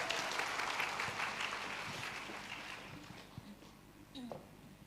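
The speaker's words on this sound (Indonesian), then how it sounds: "Berikan tepuk tangan buat istri saya yang cantik." A church seminar congregation applauds in a full burst that gradually dies away, leaving scattered claps as a voice begins speaking near the end.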